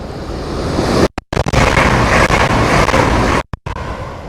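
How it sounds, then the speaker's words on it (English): Fast train passes through Marsh Barton station in Devon, England without stopping, a loud close roaring rush of wheels and wind with brief dropouts, sustained throughout. "Here comes the fast train."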